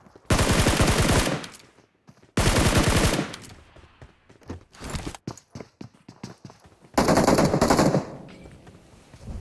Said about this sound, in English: Bobo is firing from this place